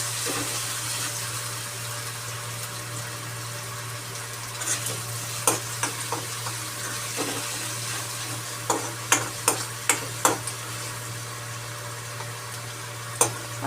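Garlic and green chili fry in a pan, making a steady soft sizzle broken by scattered sharp clinks and scrapes of stirring, with no talking.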